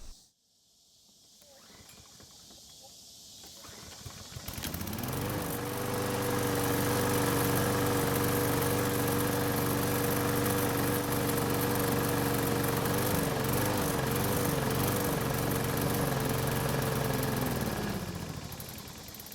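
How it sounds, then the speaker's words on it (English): A Troy-Bilt lawn mower's small gasoline engine, primed by hand with fuel, cranks quietly and then catches, settling into a loud, steady running drone with a rough, pulsing rhythm that holds for over ten seconds before fading. "I'm going to physically prime the engine with gasoline and see if it starts and runs for at least a few seconds"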